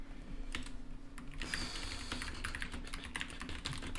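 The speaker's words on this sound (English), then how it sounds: "I have a loud keyboard on it" Busy clacking on a loud computer keyboard, uneven keystrokes tapping steadily for several seconds, close by over a low background hum, no one talking.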